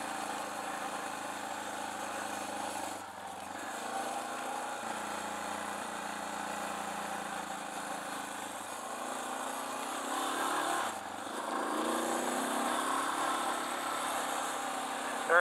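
A DR650 motorcycle engine runs while being ridden off-road in the Mojave, a steady mid-pitched drone that rises and falls gently with throttle and engine braking, fairly quiet and continuous with no talking.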